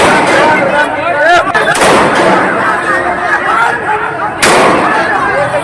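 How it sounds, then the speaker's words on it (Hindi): Police fire shots into the air to control a rowdy crowd in Bihar, with sharp loud bangs and broadband bursts rising over noisy crowd commotion and voices. "जहां बवालियों को संभालने के लिए पुलिस ने हवाई फायरिंग कर दी।"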